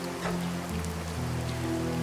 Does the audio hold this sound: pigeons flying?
no